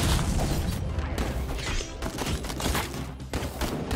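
Gunfire in the video game Madness: Project Nexus, a loud, relentless barrage of rapid shots and impacts that fills the whole stretch with dense, overlapping bursts.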